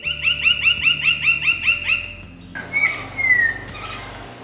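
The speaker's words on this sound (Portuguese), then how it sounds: "Pica-pau também tem vozes distintas que dá para identificar" Woodpecker calls ring out: a rapid series of repeated chirping notes, then a shorter whistled call after a brief pause, fairly close and clear.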